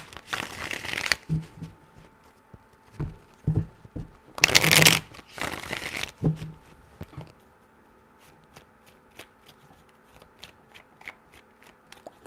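Tarot cards being shuffled in a quiet room: a few loud riffling bursts separated by softer taps and handling clicks, close and alone without voices.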